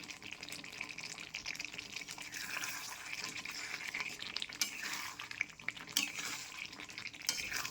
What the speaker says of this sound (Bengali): এবার একটু সময় নিয়ে আলুর দমটা ভালো করে ফুটিয়ে নেব।